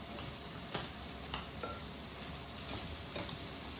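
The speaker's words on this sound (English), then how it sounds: "the steak is almost done cooking, we want to make sure we get a nice sear on that" Steak searing in a hot pan with arugula, a steady close sizzle and frying hiss with a few light clinks and stirring taps, no talking.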